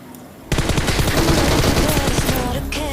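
Sustained rapid automatic gunfire in PUBG Mobile, loud and close, with a dense stream of shots rattling for over two seconds after a quiet lead-in.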